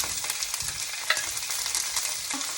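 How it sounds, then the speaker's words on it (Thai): Shrimp and asparagus are stir-fried in a pan with a loud, steady close-up sizzle and scraping stirring noises. A cook in Norway is making the dish. "ที่กินกุ้งเราไม่ต้องผัดนานใช่ไหมคะ"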